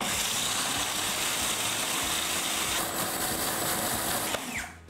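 A food processor whizzing breadcrumbs with olive oil for a chicken nugget coating runs loud and close as a continuous whirring motor roar, steady throughout before winding down at the end, with no talking.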